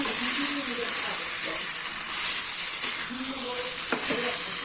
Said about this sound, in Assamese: এতিয়া মাংসখিনি অকণমান লৰাই দিছোঁ, একদম তেলটো ওলাই গৈছে।